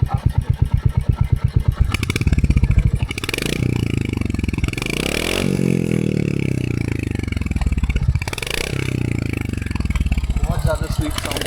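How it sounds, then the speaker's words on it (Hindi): A Royal Enfield Hunter 350 motorcycle idles with a steady, thumping exhaust beat, loud and close, with a clattering start and a few revs rising and falling while someone talks over it. "ये कुछ साउंड है एग्जॉस्ट का"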